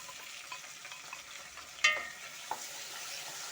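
Onions and tomatoes being stirred in a cooking pot: a steady soft sizzling hiss, broken near the middle by one sharp metallic scrape and clink, then a lighter knock shortly after.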